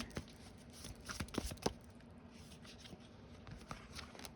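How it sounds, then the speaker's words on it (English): Tarot cards being shuffled by hand in quick riffling bursts and soft slides, close and fairly quiet, with a few sharper snaps in the middle and no talking. "I'm going to go ahead and live shuffle."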